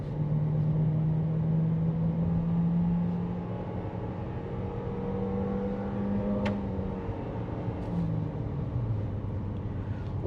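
A high-mileage Nissan Kicks accelerating on the road out of town, its engine drone rising and shifting in pitch steadily from inside the cabin, with road and wind noise underneath.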